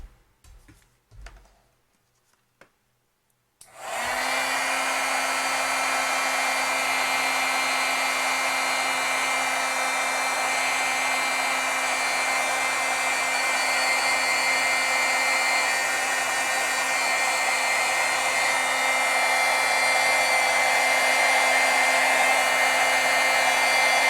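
An embossing heat tool switches on after a few quiet taps and blows steadily to heat set stamping ink, a loud, even whirring hiss with a fan tone that runs unbroken for about twenty seconds.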